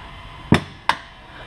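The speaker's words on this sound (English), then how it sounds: "wait till he finishes hammering." Two sharp metallic hammer strikes ring out about a third of a second apart while a Griggs Racing Watts link is installed on a Shelby GT500, loud and close over a low steady background hum.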